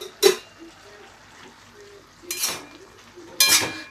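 A spoon scrapes and clinks in a pan of spiced vegetable dish with jaggery, three short metallic bursts spaced apart, near and fairly quiet against a soft background.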